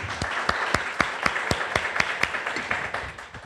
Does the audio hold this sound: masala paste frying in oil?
no